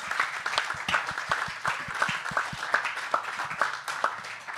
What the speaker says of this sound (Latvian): Beidzot aplausi, jā, aplausi.